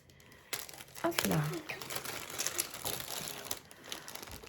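Plastic sachet from a diamond painting kit crinkles and rustles close up as it is pulled open, the crackling continuing in bursts while someone speaks briefly.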